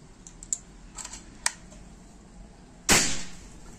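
A single sharp shot from a Bullpup Army 50 cm PCP air rifle at 3500 psi, loud and close, with a brief decaying tail, preceded by a few faint clicks and taps.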